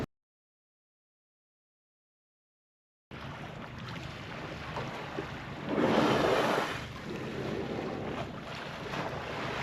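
Strong 26-knot wind buffets a sailboat at sea during an overnight passage, a steady roar of wind noise and rushing waves with a louder surging gust midway, following a few seconds of silence.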